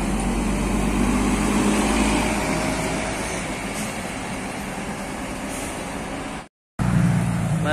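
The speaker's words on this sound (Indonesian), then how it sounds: "Kembali melintas bus Harapan Putra Jaya." A Harapan Putra Jaya tour bus rumbles past at Galendo 2, Ciamis, its engine a steady low drone with road hiss that holds for several seconds, then cuts off abruptly before resuming briefly.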